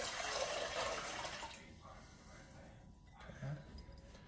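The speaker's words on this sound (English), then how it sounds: "Now dump this water back out." Water dumped out of a bowl during scale calibration, a brief splashing pour at the start that quickly fades into quiet drips and faint handling noise.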